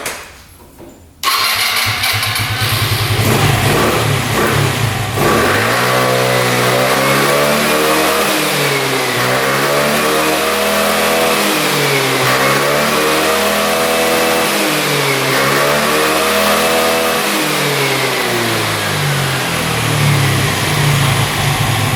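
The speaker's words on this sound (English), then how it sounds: "Now it revs out completely." A scooter engine that had been bogging, now running with its air box fitted, kicks to life and revs out cleanly again and again in loud, smooth rising and falling sweeps close by.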